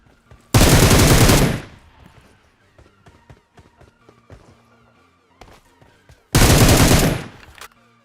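Two loud, close bursts of rapid automatic fire from an M762 rifle in the battle royale game PUBG, each lasting about a second, separated by quieter footsteps and scattered small thuds.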